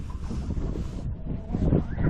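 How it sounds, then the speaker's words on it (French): Strong bise wind gusting over a boat on a lake, roaring and buffeting the microphone in continuous heavy rushes with no pauses. "Là, il est 18h avec beaucoup de vent, beaucoup de bise."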